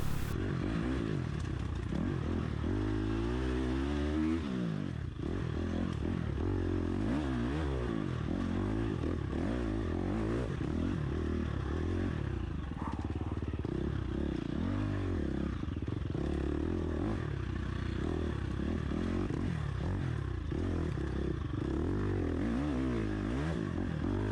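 An enduro motorcycle revs hard throughout a sprint enduro race, the engine note constantly rising and falling as the throttle is worked, loud and close with continuous rattling and scraping.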